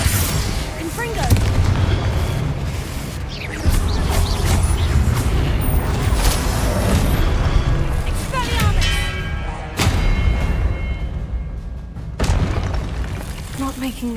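Confringo blasting spells from Hogwarts Legacy go off in repeated booming explosions and thuds, loud and close, amid busy combat noise with a voice calling out.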